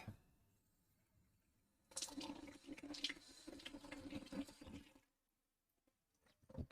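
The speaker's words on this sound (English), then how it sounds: "I'm washing the grinder" Water runs over a coffee grinder's plastic parts being rinsed at a tap, a steady rushing splash of about three seconds that starts abruptly after a quiet drippy stretch and cuts off just as suddenly, followed by a few faint knocks.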